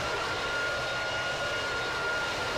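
Steady, loud airplane engine drone inside a pilot training simulator game, a continuous broadband roar with a faint high tone, running unbroken throughout.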